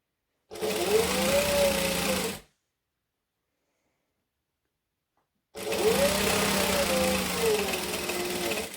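A sewing machine stitches a sling bag with a white zipper, running in two loud, steady bursts of about two seconds each, separated by a few seconds of silence.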